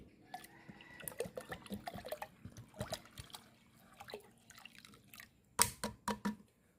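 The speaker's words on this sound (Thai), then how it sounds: "น้ำมีเอ็มที่ขยายแล้วนะครับ เราจะใช้ประมาณนะครับ1ขวดเล็ก หรือประมาณ600ซีซี" Extended EM microbial liquid, about 600 cc from a small bottle, poured into a homemade weed-killer mix, giving faint, intermittent drips and trickling splashes with a few sharper, louder splashes near the end.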